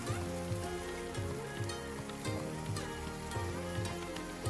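Spices with chilli powder fry in a pan after a little water is added, giving a steady, close crackling sizzle with faint stirring, alone and without talk.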